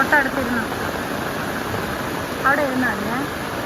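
Meenmutty waterfall at Kallar roars in a steady broadband rush on a rainy day, with voices calling out briefly over it near the start and again around two and a half seconds.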